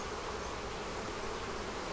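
Honey bees swarming around an opened hive in a neglected bee yard make a dense, steady buzzing hum that fills the whole stretch evenly, with no voices.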